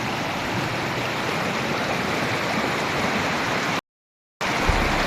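A river flows between hills with a steady, loud rushing wash, broken once by a short gap of silence before the flow resumes.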